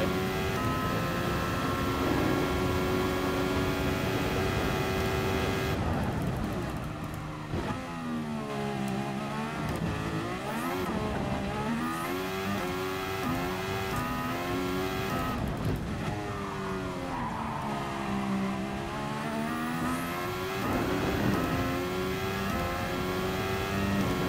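A race car engine in the video game GT Sport roars and revs continuously, with high-pitched whines rising and falling as it shifts through gears, loud and close, with occasional tire squeal.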